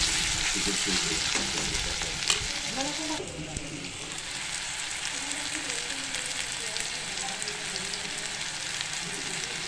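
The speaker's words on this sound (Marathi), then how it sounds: "आता हे टोमॅटो सुद्धा छानपैकी आपल्याला मऊ करून घ्यायचे तेलामध्ये।" Onion and tomatoes sizzle and fry in hot oil in a pan, a steady crackling hiss with occasional stirring scrapes, close and continuous.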